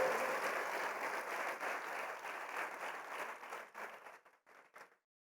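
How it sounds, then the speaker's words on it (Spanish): A church congregation applauds together at a Sunday morning worship service, a dense, steady wash of clapping that thins into a few scattered claps near the end before falling silent. "Le vamos a dar un aplauso al Espíritu del Señor esta mañana"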